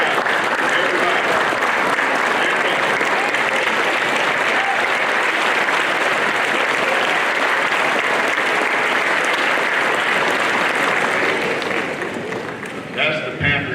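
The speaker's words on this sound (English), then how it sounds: "Let me applaud you, please." An audience at a high school football banquet for the Sterlington Panthers applauds, with loud, sustained, dense clapping filling a room for over ten seconds and tapering off near the end.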